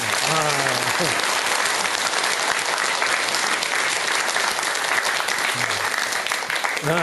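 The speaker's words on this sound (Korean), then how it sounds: "박수 한 번 더 쳐야 된다" Sustained, dense applause from a lecture audience, many hands clapping steadily and loudly throughout, with faint voices beneath.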